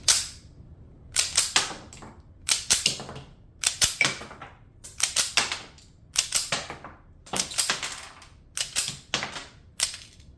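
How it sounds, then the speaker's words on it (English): A compact Alpha Foxtrot 1911 pistol's slide is racked repeatedly, giving eight sharp metallic clack-and-snap bursts in a steady rhythm, close and fairly loud, with no talk. "I'm slamming that slide back"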